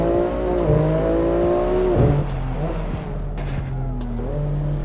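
BMW M4 G82 Competition engine lapping the Nordschleife in Assetto Corsa, a loud, continuous high-revving drone with rising pitch sweeps through upshifts and a brief dip around a gear change.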